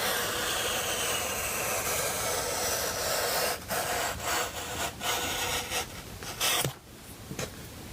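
Sanding or beveling the edge of a foam elevator for a FoamCub model plane makes a loud, continuous scraping rasp that breaks into short rubbing strokes toward the end, with no talking.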